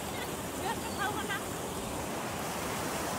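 The Bhujung river flows with a steady, soft rushing wash that holds even and unbroken throughout, with a few faint chirps briefly rising above it.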